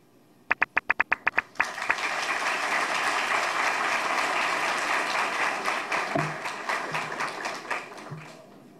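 A few sharp, evenly spaced single claps open, then a large lecture audience erupts into sustained, full applause for the speaker that carries steadily to the end.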